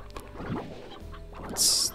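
Chickens cluck briefly in the video game Slime Rancher, a few short clucks in a quiet game scene, ending with a brighter burst of sound.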